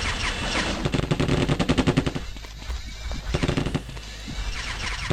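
Rapid automatic gunfire from guns in The Terminator: Future Shock, loud and close, in dense bursts that pause briefly and then resume over a steady game background.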